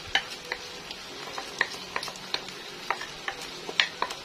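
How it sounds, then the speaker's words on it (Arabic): Washed and drained rice goes into a pot already seasoned with salt and pepper and is stirred, giving soft, irregular scrapes and light ticking clicks over a faint sizzle. "انزل بقى بالرز اللي انا غسلاه ده ومصفياه"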